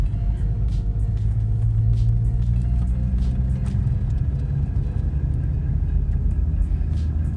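Steady low engine rumble and road noise from a Honda Civic Type R in motion, continuous and fairly loud, with no speech.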